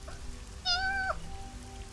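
A distressed kitten lets out a single thin, rising-and-falling meow, close and clear over a soft patter like rain in the background.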